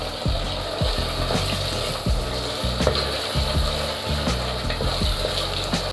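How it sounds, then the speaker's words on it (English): Jollof rice base frying in a modest amount of oil in a pan, giving a steady, close sizzle throughout with scattered clicks and clatter of stirring and utensils, and no talking. "After a few minutes of frying"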